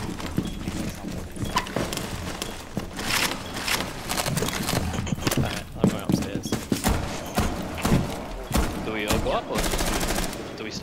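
Shots crack out repeatedly across a busy shooter video game match, mixed with footsteps and other game noise throughout, loud and dense from start to finish.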